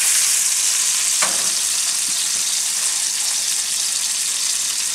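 Sockeye salmon sizzling over a fire, a strong continuous crackling hiss close up, broken by a brief scrape or knock partway through, with no voices.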